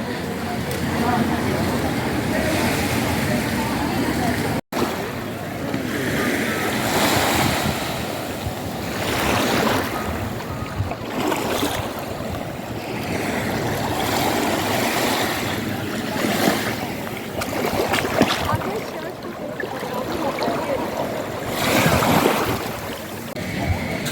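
Ocean waves surge and wash steadily onto the sand at Maya Beach in Thailand, a continuous roar mixed with wind buffeting the microphone, with some talk and background chatter over it.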